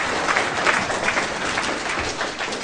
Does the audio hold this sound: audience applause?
yes